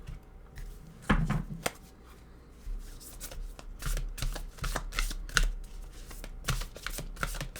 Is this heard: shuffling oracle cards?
yes